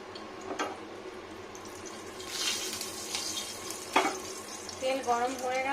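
Mustard oil heating in a pan before onions are added gives a soft, steady sizzle with a few sharp utensil taps and a brief louder crackle near the end.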